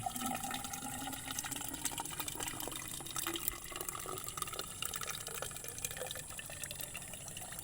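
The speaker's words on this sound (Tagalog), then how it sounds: "Lagyan natin ng tubig." Water poured into a spring hole dug for rice field irrigation, a steady close gushing and trickling that runs continuously with no talk.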